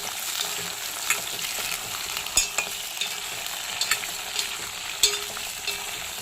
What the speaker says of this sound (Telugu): కొంచెం కలుపుదాం. చూడండి ఎంతలాగా కమ్ముతున్నాయో, ఇంకా కొంచెం కమ్మలాలి.